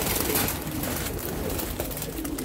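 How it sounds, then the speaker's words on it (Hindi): Soft cooing from a group of nine pigeons murmurs against a dense, noisy background, low and steady without clear breaks. "बड़े अच्छे और खूबसूरत कबूतर हैं, 9 कबूतर हैं जी।"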